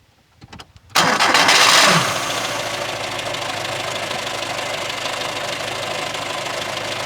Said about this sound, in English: Hopefully you will then hear the hilarious starter engine.